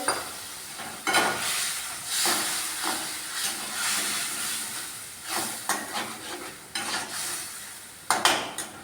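Egg and potato curry with spices is stirred in a pan, giving a steady steamy hiss and sizzle with repeated close scrapes and clinks of a spoon against the metal.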